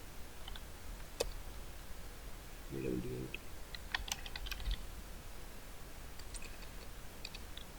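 Java code being typed on a computer keyboard, with light irregular clicks and short runs of keystrokes over a quiet room and a brief murmur.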